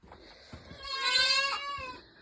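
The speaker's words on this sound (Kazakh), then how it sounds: "Лақ бар ма? Бар екен ол лақ." A goat kid bleats once, a single wavering call lasting about a second, fairly close amid quiet outdoor surroundings.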